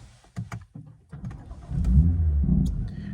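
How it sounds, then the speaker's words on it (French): A BMW M2 car engine starting: a few soft clicks, then the starter cranks and the engine catches with a loud, close rev that swells and settles into a steady rumbling idle. "on va démarrer la voiture."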